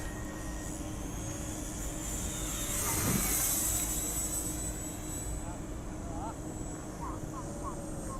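An FMS 90 mm Viper electric ducted fan RC jet whines overhead with a high, steady buzzy tone, swelling as it passes near the middle, while people talk nearby.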